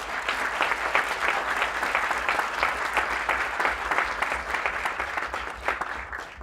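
An audience at a tech fellowship demo day event breaks into sustained applause, dense clapping from a sizeable crowd held at an even level for several seconds without talking.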